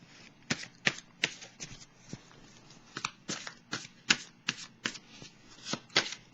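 Tarot cards are shuffled close up in a steady series of crisp, riffling bursts, about a dozen quick flutters at an even rhythm with near-silence between, no voice over them.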